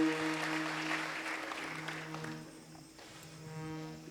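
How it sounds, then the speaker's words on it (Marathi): Audience clapping for Purva and Uma didi at a Prabodhini Ekadashi kirtan, a moderate burst of applause mixed with a sustained harmonium-like musical drone, fading partway through. "पूर्वा आणि उमा दिदी ह्या सुद्धा यांच्यासाठी जोरदार टाळी"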